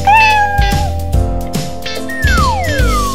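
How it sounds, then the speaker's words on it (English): A black cat in a children's animated alphabet story gives several clear meows, some drawn out and falling in pitch. A soft tinkling music bed sits underneath. "C is for cat. It's a black cat."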